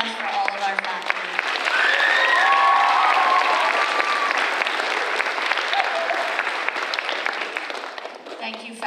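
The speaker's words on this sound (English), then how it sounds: "One more round of applause for all of our faculty." A ceremony audience applauds its faculty, a loud, sustained wall of clapping that swells and holds, with scattered cheers and whoops rising through it before slowly tapering off.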